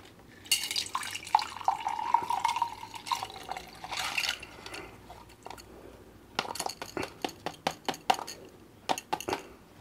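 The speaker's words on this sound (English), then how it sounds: "Okay, let's pour." A drink is poured into a glass, a gurgling trickle at first, followed by a series of short clinks and splashes near the microphone.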